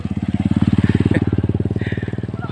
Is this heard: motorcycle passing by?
yes